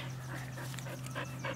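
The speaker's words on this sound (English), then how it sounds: "There's Vanessa's puppy, the cutie little girl with beautiful mama" A puppy pants in quick, soft, steady breaths close by, with a faint whimper-like edge under a constant low hum.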